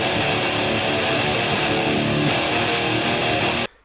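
Heavily distorted electric guitar through a Marshall amp grinds loudly and steadily for about three and a half seconds, then cuts off abruptly into silence.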